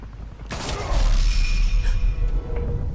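Gunfire in a Batman film scene erupts with a sharp blast near the half-second mark, then sustained loud rumbling shots and impacts fill the rest of the moment.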